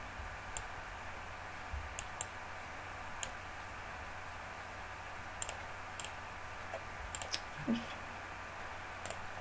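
Computer mouse clicking while software is being set up, a handful of sharp, isolated clicks at irregular intervals over a steady faint background hiss, sometimes in quick pairs, with no talking.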